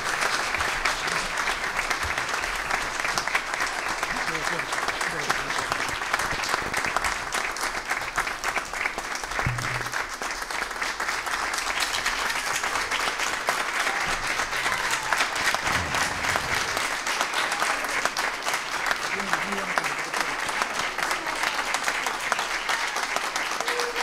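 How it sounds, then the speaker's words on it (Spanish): Sustained, loud applause from a crowd at an honorary doctorate ceremony fills the hall for over twenty seconds, steady and dense with no letup and no talking. "Pido un fuerte aplauso para ella."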